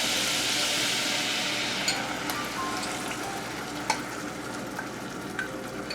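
Demi-glace hits a hot pan of bordelaise sauce with a loud, broad sizzling hiss that gradually fades and thins, broken by a few small pops and ticks.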